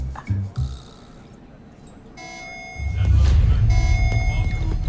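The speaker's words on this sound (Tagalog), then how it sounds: "Alarm na naman. General alarm to. May kalaban." A general alarm blares in an episode of the Voltes V Legacy series, starting after brief voices and rising into a loud repeating electronic tone with rumbling effects beneath.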